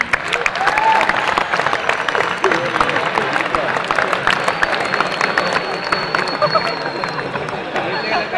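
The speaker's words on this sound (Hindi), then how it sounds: "कृपया तालियों के बीच में बुलाइए श्री संपत सरल जी को।" Audience applause rings out to welcome a poet onstage at a Hindi poetry and comedy event, a steady dense patter of clapping sustained throughout with crowd murmur beneath.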